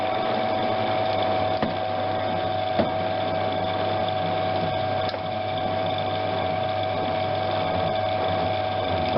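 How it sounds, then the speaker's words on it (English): A metal lathe struggles as it knurls a badly worn shaft end under heavy pressure, giving a steady mechanical hum with a constant tone and a few faint clicks, and no one speaks. "I'm knurling pretty heavy on this because this is really bad, this end"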